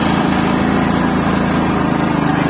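A Black & Decker BXGNI4000E inverter generator engine runs steadily in economy mode, a close, continuous low mechanical drone with a constant hum and no talking over it.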